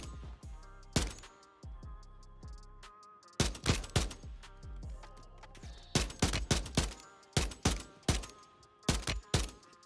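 Rapid gunfire in the Warzone 3 video game comes in loud, sharp bursts and volleys, with short pauses between clusters of shots and a few isolated cracks.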